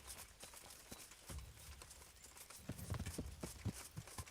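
Horse hooves clip-clopping in a medieval battle video game as the mount marches forward, a faint, uneven run of soft hoof beats that grows denser and a little louder in the second half.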